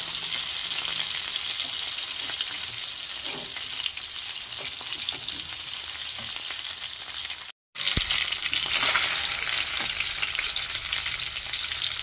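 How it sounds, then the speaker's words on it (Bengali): Fish frying in hot oil sizzles loudly and steadily as pieces are turned, with occasional crackles and a brief silent gap partway through. "এবার আর এক পিঠ আমি ভেজে নেব"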